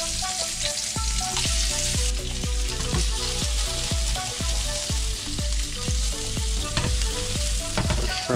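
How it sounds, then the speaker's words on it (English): Shrimp fry in a pan with a dense, steady sizzle, close and loud, broken by a quick series of rhythmic knocks and scrapes. "we're gonna just place shrimp on"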